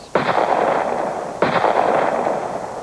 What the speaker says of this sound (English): Police exchanged gunfire with the Panthers.